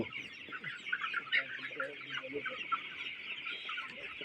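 Chickens cluck continuously in a poultry farm on a cold winter morning, some birds ailing from the chill; overlapping clucks and short calls come from several hens at moderate distance.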